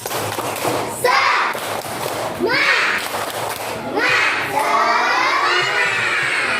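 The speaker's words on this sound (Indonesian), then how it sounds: "coba kita tepuk semangat" Schoolchildren in a classroom doing a spirit clap chant, with bursts of shouted group chanting and cheering in repeated phrases, punctuated by thumps of clapping.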